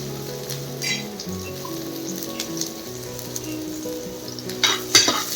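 Chopped onion frying in about two tablespoons of hot oil in a kadai, a steady crackling sizzle running throughout, with a brief burst of stronger spitting and clatter near the end. Quiet tones hum underneath.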